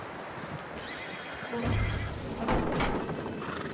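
A horse in Red Dead Redemption 2 gives a loud close whinny, followed by a heavier stretch of hoofbeats and snorting, with no talk over it.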